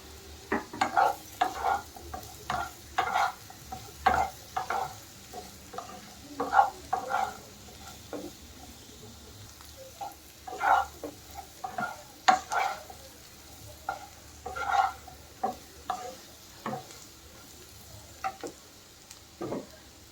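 Pepper and sugar being stirred through ghee chilli pasta in a pan, a steady run of scraping spoon strokes over a soft sizzle, repeating every second or so and close by, with no voices.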